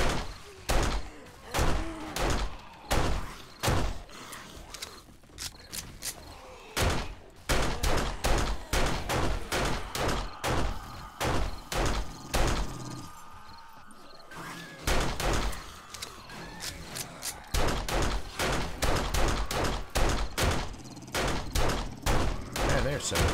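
Gunfire in the survival video game 7 Days to Die, Alpha 18: loud, rapid shots fired in long, dense volleys with short gaps, punchy and close throughout.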